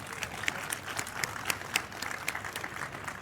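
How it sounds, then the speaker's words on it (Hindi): Audience applause for a poet at the NDTV Creators Manch evening, a soft, fairly distant patter of clapping with scattered crisp individual claps rising and falling through the crowd. "एक बार पॉपुलर मेरिठी साहब के लिए जोरदार तालियां बजाइए"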